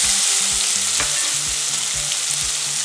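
Scotch bonnet pepper and thyme sizzle in hot extra virgin olive oil, a close, continuous frying crackle with the pan being stirred in short repeated scrapes.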